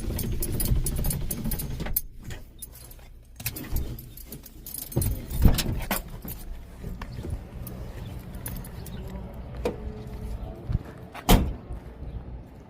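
A truck shut off and its window rolled up, with keys jangling and clicking, handling rustles, and a sharp clunk near the end, close up with no talking.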